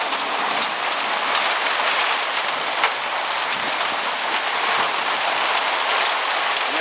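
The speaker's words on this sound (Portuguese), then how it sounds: "Chuva de granizo aqui no Sertãozinho." A hailstorm in Sertãozinho, Brazil, with hail pouring down as a steady, dense hiss and patter, loud and continuous throughout, with no voices.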